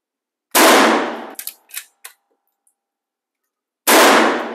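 Two loud, close blasts from a Winchester 9410 lever-action .410 shotgun fired outdoors, spaced about three seconds apart, with a few sharp metallic clacks of the lever cycling between them.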